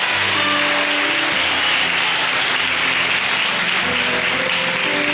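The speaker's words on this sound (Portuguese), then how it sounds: "Você pode dar uma salva de palmas para o Senhor?" A church congregation claps for the Lord after a sermon, loud continuous applause throughout with sustained tonal sound, likely music or singing, running underneath.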